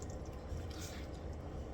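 Water poured into a sizzling pork vindaloo curry in the pan, giving a steady, dense hiss and bubbling splash that stays even and moderately faint throughout, with no speech.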